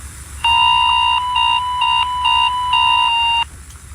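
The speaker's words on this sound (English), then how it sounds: "warnings of the attack will be broadcast through a text message, warning and sound" An emergency alert warning tone blares loudly, a harsh steady electronic pitch pulsing in several short bursts over about three seconds before cutting off.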